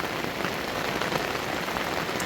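Steady rain pours onto a fishing shelter during a sturgeon fishing trip, a dense, close, continuous patter with no voices.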